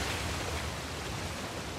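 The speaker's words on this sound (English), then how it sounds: "Another waterfall." A steady, full-band rush of falling water from a waterfall in the video game Uncharted: The Lost Legacy, continuous and fairly loud with no other sounds.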